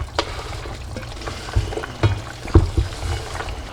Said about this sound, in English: Here's our seasonings. We're just gonna pour it on in there.